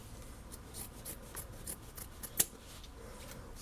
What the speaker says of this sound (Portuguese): esse excesso que sobrou de tecido, a gente pode tirar, tá? Do lado de cada costura